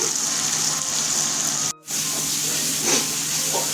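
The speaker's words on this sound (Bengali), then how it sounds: "পেস্ট করা মশলাটা দিয়ে দিলাম" Ginger and spice paste hitting hot oil in a pan, a steady close hiss of sizzling that drops out briefly mid-way and then resumes just as strongly, with no voices.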